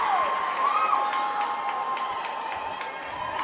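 Crowd at a girls' varsity hockey game (Orono vs. Proctor/Hermantown) cheering after a rebound goal: a steady, loud roar of voices with shouting that holds level throughout.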